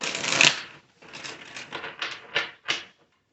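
Several quick, papery riffling bursts of tarot cards being shuffled, close by and fairly quiet, with short pauses between them and no talking.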